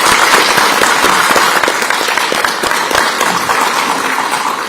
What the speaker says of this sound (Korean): 우리 후보님들 박수 한번 쳐드릴까요?